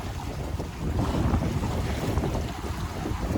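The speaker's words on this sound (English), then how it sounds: "We are sailing along at a nice pace." A sailboat under sail cuts through the water, steady wind rushing across the microphone and waves washing along the hull in a continuous, fairly loud stream with no voices.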